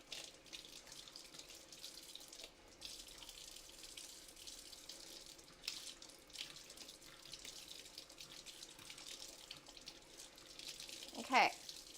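Kitchen tap water running steadily into a sink while vegetables are washed, a continuous faint hiss with occasional splashes and a brief clatter near the end.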